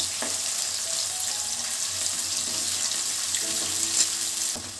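Thinly sliced onion frying in oil for a fish curry gives a constant, bright sizzle with a few small pops and stirring clatters, close and fairly loud, with no voices.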